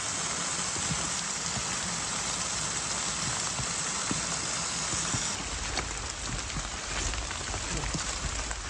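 Steady rain falls on a forest trail in Wayne National Forest, Ohio, a dense continuous hiss of drops with scattered closer patters, loud and even throughout.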